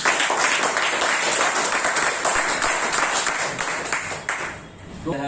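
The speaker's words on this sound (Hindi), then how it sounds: "आपके लिए एक बार जोरदार तालियां।" Loud, dense applause fills a hall during a public presentation on modern machines, sustained clapping that fades slightly toward the end.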